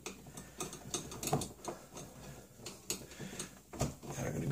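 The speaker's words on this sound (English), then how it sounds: "the last part is to anchor with the little screws, tiny little ones that go back in this little hole" Tiny screws are driven into the wood of a shelf under repair, making a sequence of small ratcheting clicks and creaks at close range, soft and uneven in rhythm.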